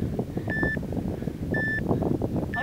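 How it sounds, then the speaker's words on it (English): Three short electronic beeps from a workout timer sound at regular intervals, a clear high tone cutting over a busy background of movement and faint voices. "hear the beep"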